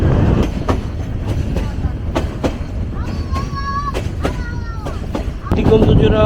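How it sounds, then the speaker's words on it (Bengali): A train crosses a bridge over the Brahmaputra river, heard from on board as a steady rumble with rhythmic clickety-clack wheel beats and brief metallic wheel squeals, growing louder toward the end. "ট্রেন এখন ব্রহ্মপুত্র নদীর উপর দিয়ে যাচ্ছে"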